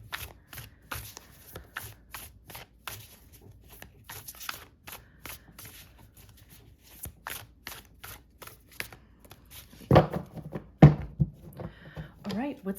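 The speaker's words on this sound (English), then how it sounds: "So we'll shuffle a few more times here" Tarot cards are shuffled repeatedly in quick riffling bursts, a steady run of crisp flutters close by, followed by some louder handling thumps near the end.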